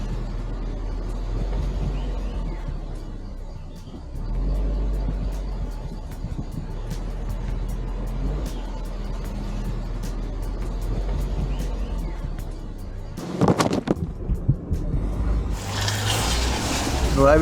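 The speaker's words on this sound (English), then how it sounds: "Driving through some slush there" Off-road vehicle grinding through slushy terrain, a low steady engine rumble with wet churning, ending in a burst of louder splashing and hiss as the tyres slip, with a voice talking over it.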